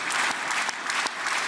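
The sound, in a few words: applause for Trump in the Israeli parliament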